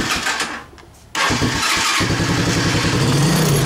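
A motorbike engine, its starter just repaired, cranks briefly after a quiet gap, then catches and settles into a loud, steady, rhythmic idle close by.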